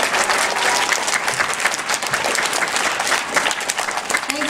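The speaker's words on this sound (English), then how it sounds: "One more round of applause." Sustained audience applause from a school group at an anti-bullying presentation, dense steady clapping filling the room at close range, with a few scattered voices underneath.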